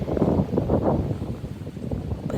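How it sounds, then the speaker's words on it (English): Strong gusty wind buffets the microphone with low rumbling roar throughout, rising and falling in loud surges. "especially on this super windy day"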